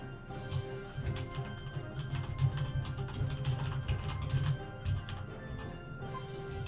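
Rapid computer keyboard typing during a session of the strategy game Europa Universalis IV, a steady patter of close key clicks running throughout over low background hum.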